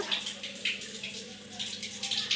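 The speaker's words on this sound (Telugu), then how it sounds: "ఇక్కడ నీళ్ళు పడుతున్నాయి కదా" Water runs steadily from a motor-fed pipe with a constant splashing hiss, moderately close, with no talking.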